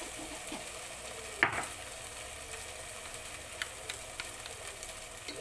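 Ginger garlic paste sautéing in a pan for Goan sorpotel, a soft steady sizzle with a sharp utensil clank near the start and light stirring scrapes, no talking.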